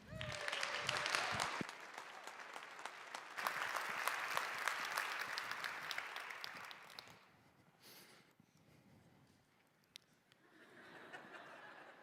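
TEDxBerkeley audience applause welcoming a speaker: a full room of clapping, loud and sustained for several seconds, then fading out with a few scattered claps and light chuckles near the end.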